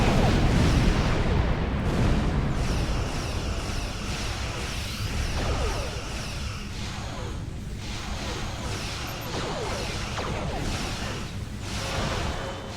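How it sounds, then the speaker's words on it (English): Torpedoes launch and detonate during a Star Trek Online space battle, a continuous rumbling barrage of whooshes and booming blasts filling the clip at steady loudness. "Divert auxiliary power to weapons. If we don't finish this soon, we'll be destroyed. Torpedoes, fire!"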